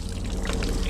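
Water from a hose on a boat's tap pouring into a tank, a dense, steady rushing splash, close and fairly loud throughout, with no voices.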